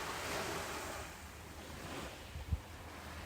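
Gentle ocean waves wash in a soft, continuous surf, faint and distant, with a slow swell and a brief low thump near the end.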